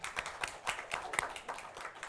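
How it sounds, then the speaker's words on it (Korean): A church congregation claps together during a Korean worship service, rhythmic group clapping at a steady beat, moderately quiet and unaccompanied by talk. "우리 박수 한번 쳐줍시다."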